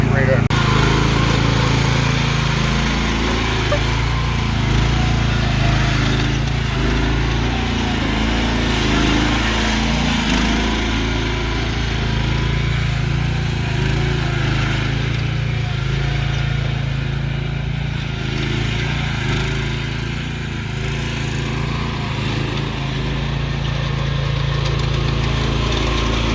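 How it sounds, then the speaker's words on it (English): Toro SS 4200 TimeCutter zero-turn mower with a 16 horsepower engine, driven and maneuvered without cutting grass, runs with a steady loud drone throughout, its pitch shifting slightly as it moves. "I'm going to bring the Z-turn over here. I'm not going to cut the grass."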